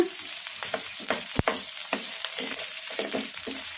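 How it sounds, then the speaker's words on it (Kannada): Sliced onions frying in hot oil over a medium flame, a close sizzle broken by repeated scraping stirs and one sharp knock of the spoon against the pan. "ಉಳ್ಳಾಗಡ್ಡಿ ಗೋಲ್ಡನ್ ಬ್ರೌನ್ ಕಲರ್ ಬರೋವರೆಗೂ ಫ್ರೈ ಮಾಡ್ಕೊಂಬಿಡೋಣ"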